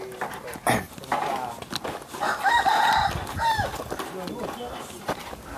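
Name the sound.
rooster crowing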